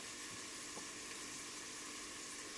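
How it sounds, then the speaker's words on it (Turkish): Onions and meat for a Turkish chickpea stew sautéing in a pan, a steady dense sizzle and crackle up close, continuous and even, with no talking. "Bu şekilde kokusu çıkana kadar kavuruyorum."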